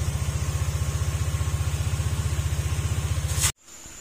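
A Honda PCX160 scooter engine, freshly overhauled after crankshaft and cylinder damage, idles with a fast, even pulsing throb for several seconds close by, then cuts off abruptly.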